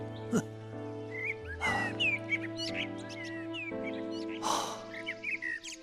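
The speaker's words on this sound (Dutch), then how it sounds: "Ja, die vogels nou eens." Birds sing in a Dutch children's animated story, with bright, short chirps and whistled notes scattered through the clip, close and clear against a sustained musical background with a few louder rustling bursts.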